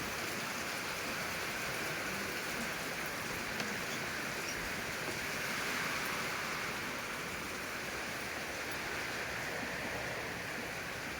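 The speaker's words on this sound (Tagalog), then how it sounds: "biglang buhos ang ulan eh. Kala mo bagyo." Sudden heavy downpour in Signal Village, Taguig, a dense, steady roar of rain that stays loud and unbroken throughout, with no voices.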